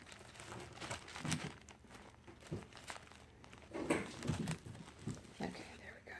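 Poinsettia tissue paper crinkles and rustles in bursts while being handled for a junk journal, the papery crackles rising and falling close up, with someone talking in the background.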